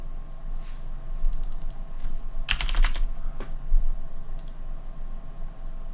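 Typing on a computer keyboard during a username-and-password login: bursts of quick clicking keystrokes, with a dense flurry near the middle and scattered taps elsewhere, steady and close.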